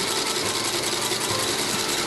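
An industrial sewing machine stitches the inseam joining a boot's upper to the midsole in the Meindl factory, a dense, continuous mechanical rattle and clatter that stays close and steady throughout with no talking.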